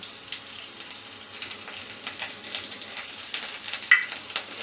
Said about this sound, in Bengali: ফোড়নটা ভাজা হয়ে গেছে, এবারে কুড়ে রাখা নারকেলটা দিয়ে দিলাম।